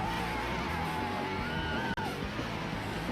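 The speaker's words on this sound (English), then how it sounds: "The venue was filled with supporters cheering with enthusiasm." Supporters cheering at a Robocon student robot competition in Bangkok, a dense, steady crowd roar with scattered whoops and yells filling the whole stretch, one brief dropout near the middle.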